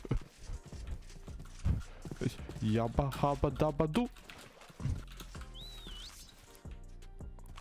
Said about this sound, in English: Don't kill the horse.